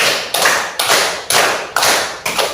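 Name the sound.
rhythmic hand clapping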